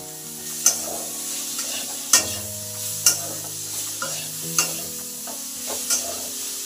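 Spice paste for a vegetable curry sizzles in a pan while being stir-fried, a soft steady hiss broken by regular sharp clacks of a spatula or spoon against the pan.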